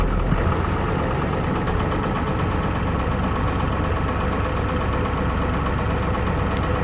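An old Ford engine idles steadily just after starting, a loud, continuous low rumble with a rough mechanical knock running throughout, close by and with no talking over it.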